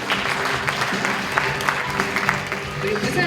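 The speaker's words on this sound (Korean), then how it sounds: "박수로 모시겠습니다" A hall audience applauds steadily to welcome a fish-cake company vice president onto the stage at a 2018 Busan maritime-industry lecture event; dense, even clapping with scattered sharper claps and faint voices underneath.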